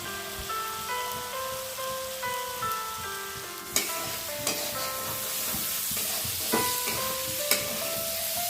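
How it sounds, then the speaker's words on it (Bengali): Vegetables frying in an iron wok for leftover fried rice, a continuous close sizzle with occasional sharp clinks of a spatula, with background music over it and no speech. "এরপর সবজিটাকে কিছুক্ষণ ভাজতে দিন, কড়াইয়ের মধ্যে এটি আস্তে আস্তে সিদ্ধ হোক।"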